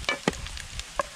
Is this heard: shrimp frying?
yes